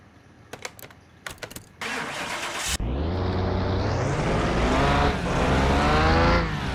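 A Morena Frizione in Car Mechanic Simulator 2021 cranks with a few clicks and a rapid starter whir, then catches and fires into a loud steady idle that rises as the engine revs up.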